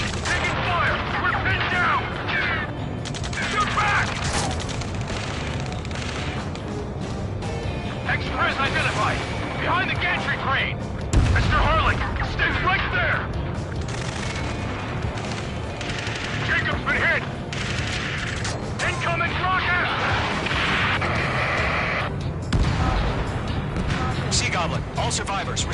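Sustained gunfire in the Ace Combat 7 video game, rapid machine-gun bursts and booming impacts rattling continuously for the whole stretch, loud and close, with urgent radio voices talking over the shooting.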